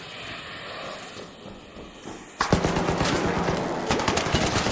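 Rattler gun in the video game ARC Raiders opening up partway through, a loud run of rapid close shots over a hissing background after a quieter stretch.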